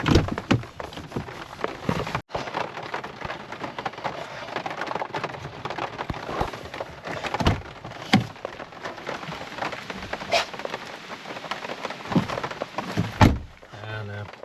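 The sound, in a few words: rain falling in forest, distant thunder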